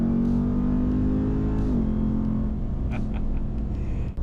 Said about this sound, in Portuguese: E o som do Supercharger com esse motor V8